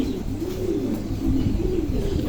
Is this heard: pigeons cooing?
yes